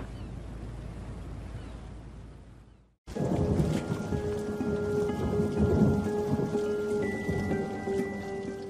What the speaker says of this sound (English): It's stormy sea day aboard Royal Princess.